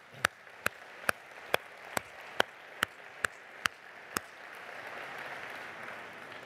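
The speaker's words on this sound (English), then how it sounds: "Let's give them all a round of applause." At a WTTC travel event, about ten distinct sharp claps ring out at an even, steady rhythm, like a single pair of hands, before fading into a soft, diffuse murmur of scattered room noise.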